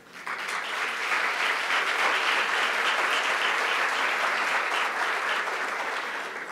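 An audience at an official event hosted by the office of the First Lady breaks into loud, sustained applause that swells within the first second and continues evenly to the end.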